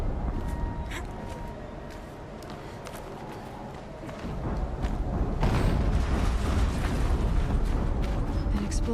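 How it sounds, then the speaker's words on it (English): An explosion in the video game Horizon Zero Dawn goes off amid ruins: a rumbling blast swells after a few seconds into a sustained, dense roar with crackling debris, following quieter rustling footsteps. "An explosion."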